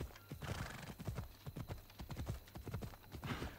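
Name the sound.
horse riding in video game Assassin's Creed Odyssey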